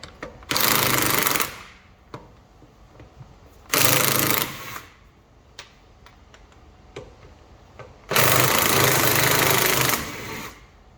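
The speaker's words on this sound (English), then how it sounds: "So let's start with the old snap-on gun, seeing if it will undo these bolts" An old Snap-on impact gun hammers at car wheel bolts in three loud, rattling bursts of one to two seconds each, with quieter clicks and handling noises in the gaps.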